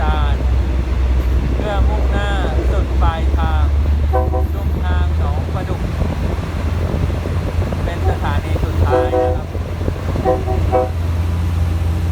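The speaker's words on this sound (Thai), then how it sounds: "รถไฟชานเมือง" A Thai suburban train idles at Khlong Bang Tan station with a low engine hum, while chiming tones and announcements ring out over the steady rumble.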